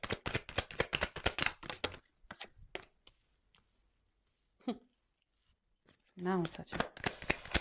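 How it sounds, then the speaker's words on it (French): Tarot cards being handled and shuffled, with a quick run of dense papery flicks first, then scattered soft taps and card slaps, as someone speaks briefly in between. "je vais prendre toutes les cartes"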